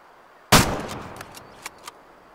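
A single loud rifle gunshot aimed at a red deer in the hunting game Way of the Hunter, sharp crack with a decaying echo, followed by a few faint clicks of bolt handling.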